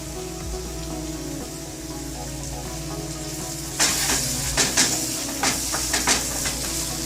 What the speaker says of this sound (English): Now it's time to add the tomato puree.